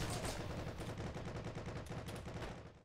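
Continuous rapid submachine gun fire rattles in fast, even bursts for the whole stretch in the World War II shooter Heroes and Generals, loud and close with no voices.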